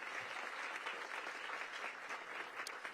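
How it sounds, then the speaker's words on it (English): An audience at a ribbon-cutting for Cedar Hill Regional Medical Center applauding for Council Chairman Phil Mendelson, steady moderately loud clapping from a gathered crowd with no talk over it. "Give him a big round of applause"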